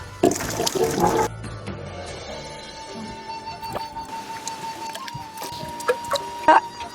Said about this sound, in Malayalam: പൂളക്കായൊക്കെ തൊലിച്ച് ക്ലിയർ ആക്കിയിട്ട് വെള്ളം ഒഴിച്ച് കഴുകി കൊടുക്കാം